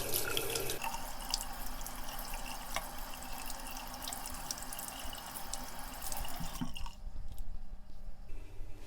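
A bathroom tap runs in a steady, close hiss while water is cupped in a hand and worked into a makeup brush, then the flow cuts off near the end, leaving quieter trickles.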